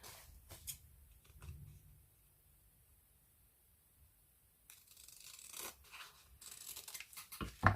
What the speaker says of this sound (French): je coupe